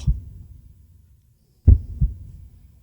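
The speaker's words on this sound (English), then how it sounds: "heart beat on with a muffled sound" Low, muffled thumps with dull, deep beats, a pair near the start and another pair later after a silent pause, like a heartbeat heard through padding.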